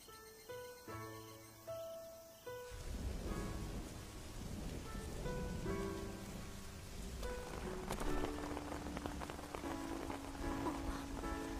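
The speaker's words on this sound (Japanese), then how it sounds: "雨が降るなんて思わなかったんだよ" Steady rain pours down in a dense, close hiss of drops pattering on surfaces. A few soft tonal notes come before the downpour sets in, and no voices sound over it.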